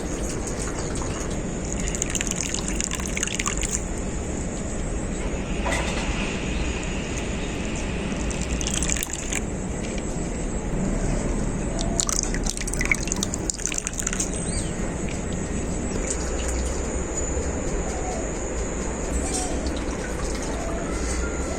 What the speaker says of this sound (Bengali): হাতে করে যতটা পেরেছি আমি নারকেলটা ছেঁকে নিয়েছি